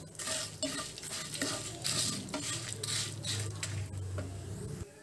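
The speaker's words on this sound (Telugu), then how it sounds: "ఇందులోనే 1 టేబుల్ స్పూన్ జీలకర్ర హాఫ్ టేబుల్ స్పూన్ మెంతులు వేస్తున్నానండి కలిసి వీటిని కూడా చక్కగా వేయించుకుందాము" Cumin and fenugreek seeds dry-roasting in a pan while being stirred, with repeated scraping and rattling strokes of a spoon against metal and a light crackle, close and continuous.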